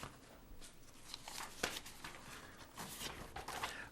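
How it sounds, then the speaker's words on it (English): Papers shuffled and handled near a microphone during a city council meeting, a run of soft rustles and crisp flicks over about four seconds, close and fairly quiet, with no talking. "Sorry for my shuffling."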